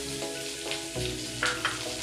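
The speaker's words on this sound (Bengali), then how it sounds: "পেঁয়াজটাকে ভালোভাবে ভাজবো।" Chopped onion fries in oil with whole cumin seeds, a steady close sizzle marked by a few soft stirring scrapes and small pops, with no voices.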